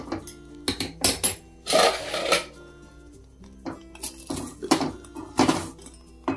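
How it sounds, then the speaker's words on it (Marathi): Gujarati handvo is turned over in its pan, giving a string of metallic clanks, taps and scrapes from spatula and cookware, loud and close, with quiet gaps between the bursts. "आता आपण ह्याला पलटवून घेऊ."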